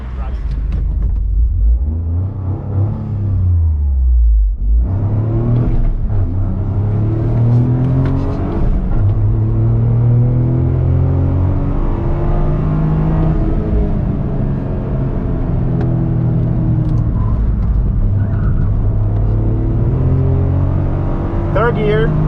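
A 2023 Toyota GR Corolla Morizo Edition engine revs hard in third gear on a race track, a loud, continuous rising and falling drone with a dip around four seconds, heard from inside the car.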